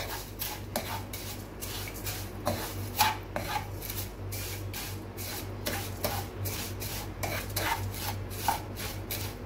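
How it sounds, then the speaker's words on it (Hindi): Vermicelli is stirred and roasted in oil in a pan, giving a rhythmic dry scraping and rustling as the spoon sweeps through again and again. The strokes come close and steady, with a faint hum underneath and no talking. "फिर मैं सेवइयों को ऑयल में भून लूंगी और थोड़ा सा रेड कर लूंगी"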